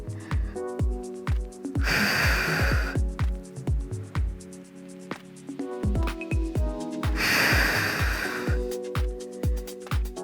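A big exhale breath during an advanced pilates flow comes as two loud, airy bursts of breath over a steady, thumping beat of background music.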